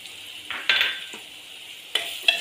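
A spoon stirs a spice mix of garam masala, coriander powder and chili into steamed white bitter gourd in a pan, giving a few close scraping strokes and soft clatters against a quiet background.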